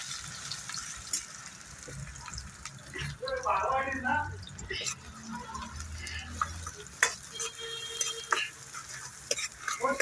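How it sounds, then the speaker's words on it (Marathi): Onion frying in oil for a chutney tempering gives a low, steady sizzle with scraping stir strokes and occasional clinks, while people talk over it. "कांदा टाकून द्यायचा तेलामध्ये कांदा परतलाय"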